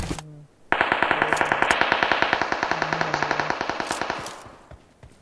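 Rapid automatic gunfire in the mobile battle royale game BGMI, a loud sustained burst of evenly spaced shots lasting several seconds before tapering off, with no talk over it.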